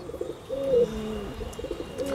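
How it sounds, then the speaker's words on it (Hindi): A pair of high-flyer pigeons circles overhead while a soft cooing call drifts in a few low, wavering phrases against faint outdoor hiss. "और ऊपर दो कबूतर उड़ रहे हैं"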